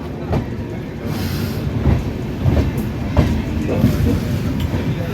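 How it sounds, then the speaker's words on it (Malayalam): The Vasco da Gama–Velankanni Express rumbles steadily into Nagapattinam Junction railway station, wheels clacking over rail joints in a regular rhythm, loud and close with no voices. "നാഗപട്ടണം ജംഗ്ഷൻ റെയിൽവേ സ്റ്റേഷനിലേക്ക് ട്രെയിൻ എത്തിയിരിക്കുകയാണ്"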